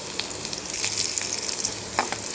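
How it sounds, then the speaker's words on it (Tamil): Onions sautéing in a pan for a Tamil ridge gourd kootu, a steady soft sizzle with a few faint clinks of stirring, close and moderate in level, no talk. "அதனால நல்லா வதக்கிக்கிறோம் வெங்காயத்தை"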